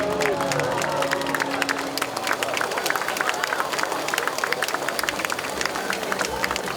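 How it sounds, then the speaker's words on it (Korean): A crowd at a ceremony in Daegu celebrating Dongseongro's designation as a special tourism zone claps in a brisk, dense burst, close and lively, with murmuring voices mixed in throughout. "대구관광의 새 시대가 열렸습니다. 큰 박수로 함께 해주시기 바랍니다."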